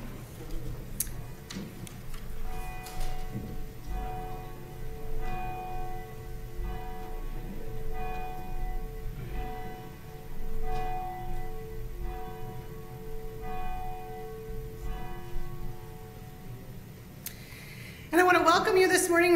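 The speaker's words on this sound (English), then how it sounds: "Please stand for the ringing of the bell as it calls us into worship this morning." A church bell at a United Methodist church in Paynesville, Minnesota tolls for worship, with evenly spaced ringing strokes repeating steadily about every second, followed by a louder burst of noise at the very end.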